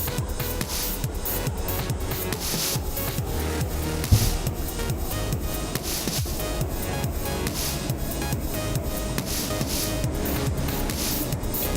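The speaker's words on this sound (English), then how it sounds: "Just coming in right now, you can hear the air rushing around outside." Air rushes around a spacecraft descending through the atmosphere in Kerbal Space Program, a continuous loud broadband hiss and roar with one brief thump partway through, no talk over it.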